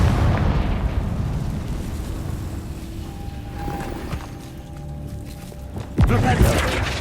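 A Confringo blasting spell goes off in the Hogwarts Legacy video game, a loud burst near the end over continuous game music and rumble, with someone talking throughout.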